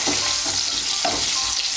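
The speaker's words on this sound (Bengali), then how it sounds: "নুন দিয়ে আলুগুলো ভেজে নেব।" Potatoes frying in hot oil with salt for a Bengali sukto, giving a steady close sizzle with soft stirring scrapes throughout.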